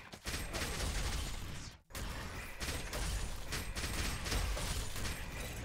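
Dense bursts of blasts and crackling gunfire from the video game Blade Assault pile up continuously, loud and chaotic, with a brief dropout partway through.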